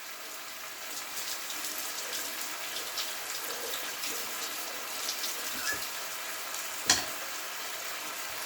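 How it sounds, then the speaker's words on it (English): Fajita meat sizzles and crackles steadily in a hot frying pan, close and continuous, with a sharp metallic clink near the end. "Get that sizzle going."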